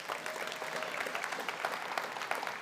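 Steady, moderately loud applause fills a large hall during a school district State of the District address, a dense crackle of many hands clapping continuously with no voices over it.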